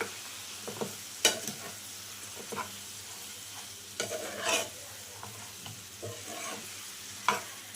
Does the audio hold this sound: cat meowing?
no